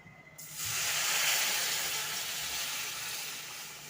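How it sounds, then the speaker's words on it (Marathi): Water poured into a hot pan of spiced tempering with chilli powder and salt for a toor dal dumpling curry, bursting into a loud, steady hiss and sizzle that starts abruptly and holds, with no talking. "आता आपण पाणी सोडूया."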